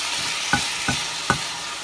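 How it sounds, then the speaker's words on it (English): Chicken pieces sear in a generously oiled pan while preparing butter chicken, producing a steady near sizzle with three sharp stirring or turning clatters, no voices. "that chicken is cooking up really quick. Nice and seared on all sides."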